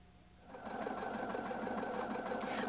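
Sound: Husqvarna Viking Designer 1 sewing machine sewing cross stitches

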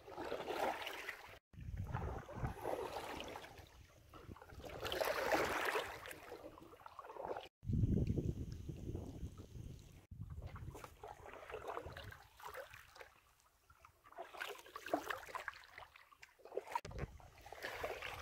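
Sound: canoe paddling on a river

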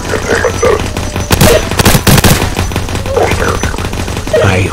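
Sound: gunfire in Roblox video game

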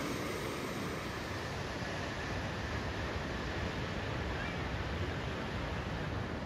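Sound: ocean waves breaking on the California Lost Coast shore

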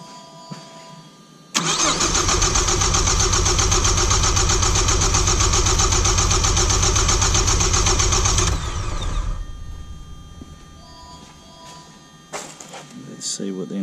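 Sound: four-cylinder car engine cranking

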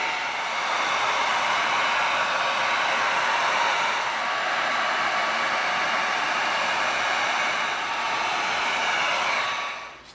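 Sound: heat sealing EVA foam crossbow

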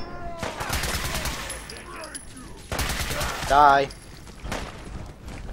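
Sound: gunfire at legendary mole rat, from video game Fallout 4 Far Harbor

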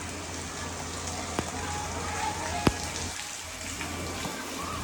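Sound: rain falling

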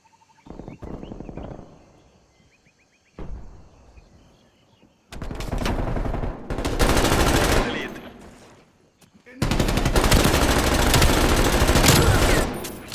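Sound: LC10 submachine gun firing in a video game

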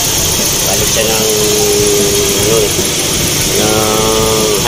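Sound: Nissan pickup engine idling after distributor timing

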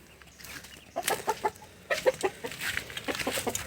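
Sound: Kappiri chicken clucking

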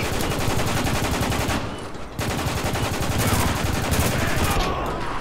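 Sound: shotgun gunfire in video game Spec Ops: The Line

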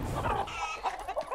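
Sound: rooster Chicharrón clucking in Far Cry 6 video game

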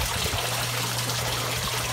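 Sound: water flowing into aquarium sock filters

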